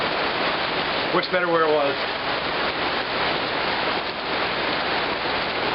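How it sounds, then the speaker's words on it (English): Steady rain pours outside a fish house, a dense unbroken hiss filling the whole stretch, while someone speaks briefly over it. "Just waiting for the rain to die down a little bit."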